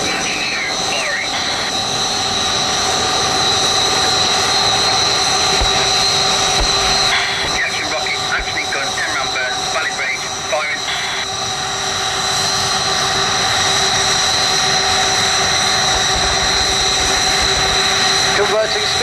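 The jet engines of the Red Arrows display team roar without a break during a 360-degree wing-over at the Royal International Air Tattoo. The sound is loud and continuous, with a commentator talking over it throughout.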